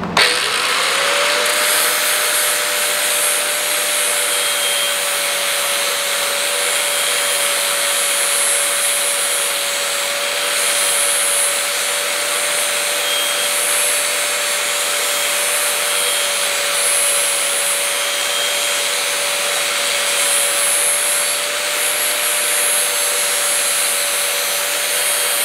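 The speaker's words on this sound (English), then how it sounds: "I'll get that off using the angle grinder" An angle grinder grinds the mushroomed tip off a cast blacksmith drift, a loud steady high-pitched whine with a constant tone running unbroken for the whole stretch, no voices over it.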